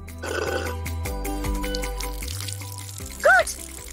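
Water is poured into a small toy pool built for a doll, a brief splashing pour heard amid other background sounds without speech.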